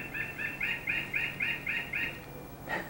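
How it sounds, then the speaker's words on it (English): Outdoor birds chirp in a quick, regular run of bright two-note calls, about eight bursts evenly spaced, fairly clear against a low background hiss and ending with a sharper final note. "That's the birds."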